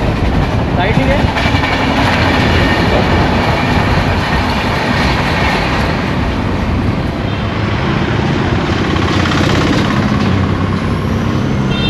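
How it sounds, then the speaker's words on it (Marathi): A train passing on railway tracks at night, a loud, continuous rumble and roar of rail cars that holds steady for the whole stretch without letup. "ट्रेन दिसते काय?"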